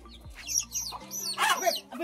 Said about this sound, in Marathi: हे कोंबड्या आपल्या घरच्या इतक्या साऱ्या कोंबड्या आहे घरी